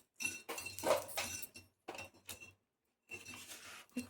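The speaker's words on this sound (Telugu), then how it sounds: "ఇప్పుడు మెంతులు వేస్తున్నారు మా మమ్మీ." Fenugreek seeds poured into a metal pan in a home kitchen give three short bursts of crisp rattling and clinking, separated by brief silences.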